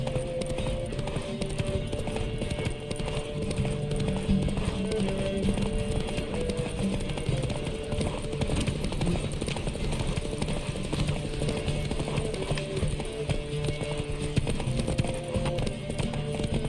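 Galloping horse hooves from The Witcher 3 video game pound in a continuous rhythmic clip-clop, layered over steady game background sound and music at an even, moderate level throughout.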